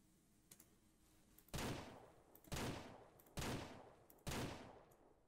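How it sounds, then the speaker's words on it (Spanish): Four loud, sharp gunshots fire about one second apart, each with a short ringing tail, over a faint low background. From the video game Ranch Simulator, shooting at a bear. "Cuatro disparos, ¿eh?"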